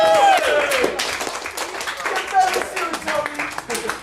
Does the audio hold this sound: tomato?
no